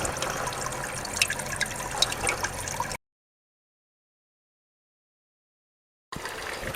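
Water washes gold concentrates from a gold hog sluice while highbanking, a steady close splashing flow that drops out into silence midway and then resumes briefly at the end.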